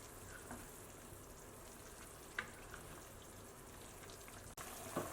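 Dumpling wrappers simmer in a pot of boiling water on a home stove for a quick breakfast dish, making a steady soft bubbling hiss that runs throughout with a few faint clinks.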